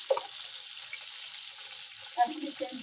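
Small desi tengra fish fry in oil in a pan, a steady close sizzling hiss with a few brief sputters and faint clinks.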